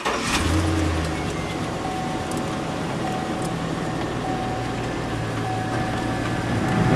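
A 2003–2006 Chevrolet Silverado or GMC Sierra pickup engine idles steadily and loudly on a hot day, a continuous mid-pitched hum with a faint rise in level toward the end.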